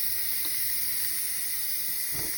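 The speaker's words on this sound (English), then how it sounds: "I am going to hit the steam button" Steady, fairly quiet hiss of steam venting from a Pampered Chef Quick Cooker pressure cooker's release button, continuous throughout without pauses.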